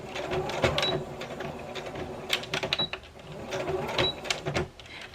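A sewing machine stitches back and forth across a fabric face mask, reinforcing the seams, in steady mechanical bursts with brief pauses between runs.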